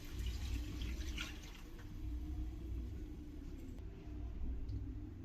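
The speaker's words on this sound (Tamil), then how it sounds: "மட்டன் வேக வச்ச தண்ணியை முதல்ல ஊத்திக்கிறேன்." Mutton cooking water pours steadily into a pot for biryani, a continuous splashing wash over a low background rumble, with no one speaking.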